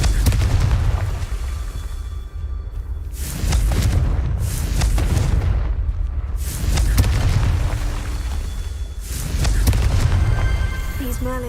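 Confringo spell explosions from Hogwarts Legacy go off as heavy booms at a steady pace. Roughly four loud blasts each roll out and fade before the next one hits, with a voice calling out between them.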